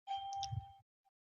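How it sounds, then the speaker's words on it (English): A single bell dings clearly once, signalling the start of a fight, and rings out with a sustained tone before stopping, followed by a faint tap. "And there's the bell, Kyle."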